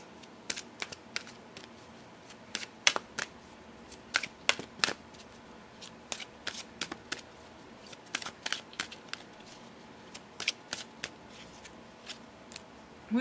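Oracle-style life purpose cards being shuffled by hand in a quiet room, a steady run of crisp riffling and flicking clicks, close and fairly loud, with no voices.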